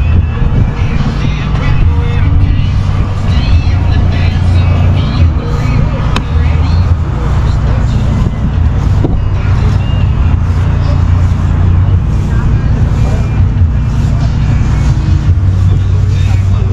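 Early antique diesel tractor, started on gasoline, idling at an antique tractor show with a steady low engine rumble throughout, a continuous close drone with people talking in the background.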